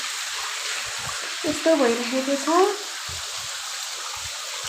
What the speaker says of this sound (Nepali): पानी हेर्नु न साथीहरू